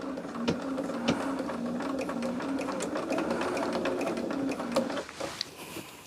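Sewing machine stitching a seam just inside the 3/8 inch line, a steady close rapid mechanical whir with a rhythmic needle chatter that runs continuously, then slows and stops near the end.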